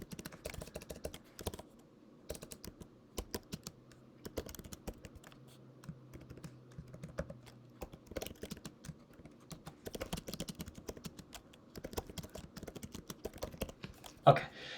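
Computer keyboard typing Python code: quick, irregular bursts of key clicks fill the stretch, close and moderately loud, with brief pauses between runs and one sharper clack near the end.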